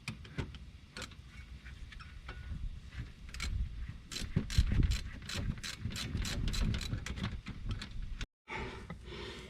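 A ratchet wrench tightens a bolt on the brake line of a 1987 Pontiac Fiero GT, giving close, rapid bursts of crisp clicking that come in short runs with brief pauses between them.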